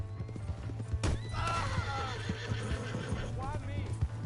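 Horse in Red Dead Redemption 2 gives a clear whinny over rapid galloping hoofbeats and a steady low game hum, with someone talking loudly over it.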